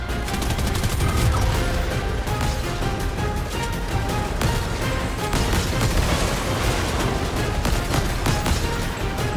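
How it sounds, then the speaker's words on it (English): Steady, dense gunfire from a slow-firing gun in a Fortnite solo match, with heavy booming shots layered continuously and loudly throughout, no talk over it. "Bro, this gun shoots so slow."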